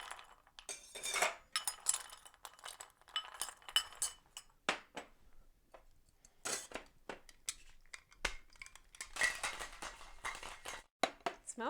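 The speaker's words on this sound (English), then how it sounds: "some ice so we can shake it up" Ice and vodka rattling in a cocktail shaker, rapid irregular clinks and sloshing bursts that come and go close up, with no talking.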